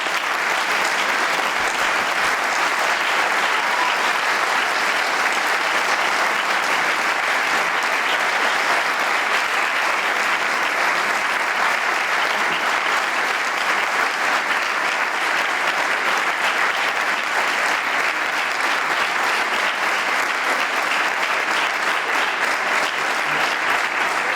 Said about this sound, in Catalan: es demana a tots un fort aplaudiment per a ell.